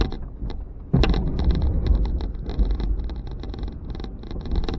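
A Ford F-150 pickup fitted with a Boss HTX V-plow pushing heavy snow, a steady low engine rumble and scraping rush that swells abruptly after the first second and holds loud throughout, with wind buffeting the microphone.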